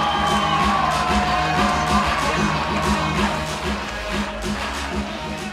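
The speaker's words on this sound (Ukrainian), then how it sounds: "Аплодисменти!" Crowd at a fight event roars with cheering, whoops and applause, a dense sustained wall of noise throughout with no gaps.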